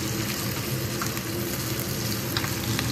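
Onions and bitter gourds fry in a pan with a steady, close crackling sizzle that stays even throughout, with no talking.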